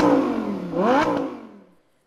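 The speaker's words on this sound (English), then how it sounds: "now what you have here is a sound of our V10 engine" Lamborghini Huracán V10 engine revving up in a single rising sweep, then falling back and fading to silence, loud and close with no voices.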